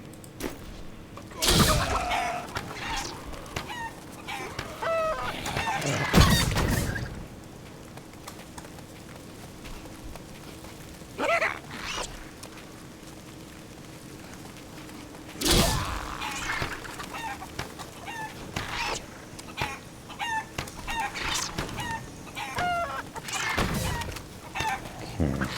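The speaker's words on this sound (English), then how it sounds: "And Hex Angry Chicken form." Clucking and squawks from the Hex Angry Chicken form in Diablo 3 recur across the stretch, mixed with intermittent loud bursts and clattering game effects, without talking.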